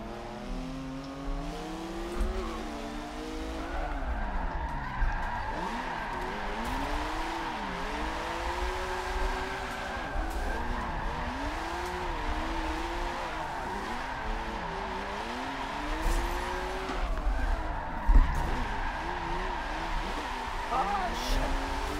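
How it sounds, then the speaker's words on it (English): Car drifting around the Long Beach circuit in Forza Motorsport 7, with continuous looping tire squeal and a revving engine rising and falling steadily throughout, loud and up close. "So let's go drifting."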